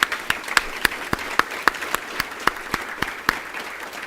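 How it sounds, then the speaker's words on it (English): One person claps steadily at a conference's opening remarks, with sharp evenly spaced slaps of about three per second, fairly close, over faint room noise. "give her a round of applause."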